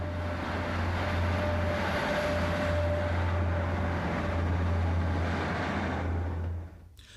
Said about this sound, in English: this morning train of empty steel wagons from Stranraer to Teesside